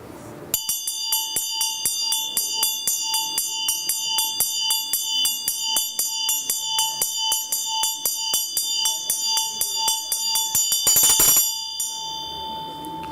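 Tibetan Buddhist ritual bell rung during Guru Puja practice with a dorje held in the other hand, a rapid, even run of bright metallic strikes with a sustained ring, ending in a louder burst before fading.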